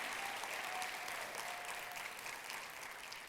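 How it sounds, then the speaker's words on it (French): An audience at a thesis-presentation final claps steadily, a dense, even patter of applause that stays alone and fairly faint throughout. "Et ça s'applaudit"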